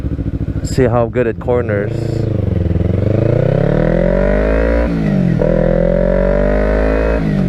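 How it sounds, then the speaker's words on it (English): A 2012 Kawasaki Ninja 250R motorcycle revs high while riding, its engine whine climbing and holding a steady high pitch with slight dips as gears shift; a rider talks briefly over it at the start. "I have to rev it really high though."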